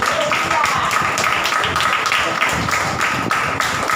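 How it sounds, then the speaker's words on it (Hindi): A church congregation applauds steadily during a Hindi Christian sermon service, the dense clapping holding for the whole stretch with some voices mixed in. "अरे बजाओ ताली।"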